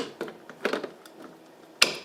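A Fire-Lite pull station cover is fitted back on, giving a few small plastic clicks and creaks followed by one sharper snap at the end, close and fairly quiet.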